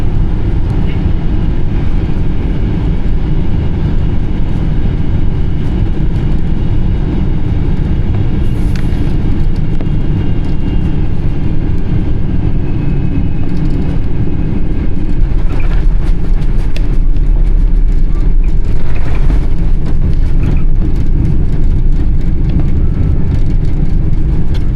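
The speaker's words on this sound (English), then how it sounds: "And here we've landed at Hong Kong International Airport." Airliner landing at Hong Kong International Airport, heard from the cabin as a loud continuous rumble of roll-out and engine roar with some rattling, steady throughout and without voices.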